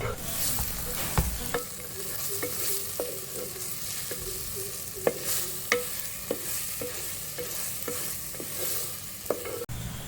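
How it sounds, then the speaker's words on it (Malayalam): Sliced onions with salt sautéing in a pan for chicken curry, a steady sizzle broken by regular scraping strokes of a spoon stirring, close and fairly loud with no talking. "നമുക്ക് ഇത് നന്നായിട്ടൊന്ന് വഴറ്റിയെടുക്കണം."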